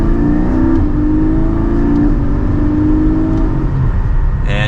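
Porsche 718 Spyder accelerating hard from second gear, heard from inside the cabin: a steady, loud engine drone rising gradually in pitch, continuous without pauses or talk.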